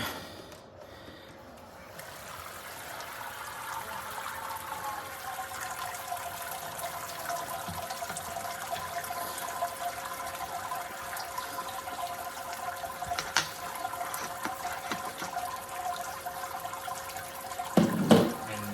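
Hot sparge water at about 76 degrees pours steadily into the mash on a Brewzilla all-in-one brewing system during a hazy pale ale brew day, a continuous close splashing rush with a brief louder clatter near the end.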